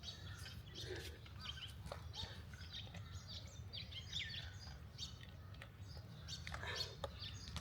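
Small birds chirp and tweet outdoors in a mountain setting during a workout, their calls scattered across the scene and fairly faint over a steady low background rumble.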